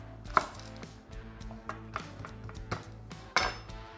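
Garlic cloves are peeled and roughly smashed on a cutting board for chicken stock, producing sharp knocks and thuds at an irregular pace, close and fairly quiet.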